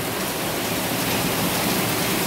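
Heavy rain from Tropical Storm Elsa pouring down in Jamaica, a constant loud hiss of rainfall and runoff with no voices.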